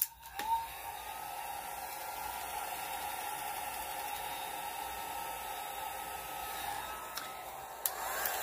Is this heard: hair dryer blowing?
yes